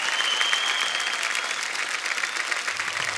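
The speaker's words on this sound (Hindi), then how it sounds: "जोरदार तालियां" Studio audience applauding on a televised comedy talk show, a sustained, even burst of crowd clapping at moderate level with no talk over it.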